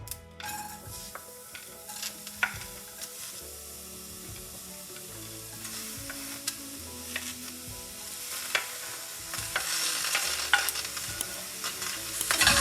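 Chilies and vegetables hitting a pan of popping mustard seeds and cumin, a steady close sizzle with stirring clinks and scrapes that swells louder toward the end.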